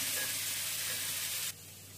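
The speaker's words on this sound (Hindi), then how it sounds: "जिंजर गार्लिक पेस्ट को भी हम 3 सेकेंड के लिए फ्राई करेंगे" Ginger garlic paste fries in hot oil in a pan while cooking vinegar chicken, a loud close steady sizzle that drops abruptly in level halfway through.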